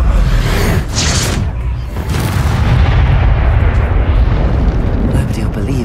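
A loud, sustained blast from the Expulso spell in Hogwarts Legacy, a heavy rumbling explosion that fills the scene and trails off into roaring debris noise, with a voice heard beneath it.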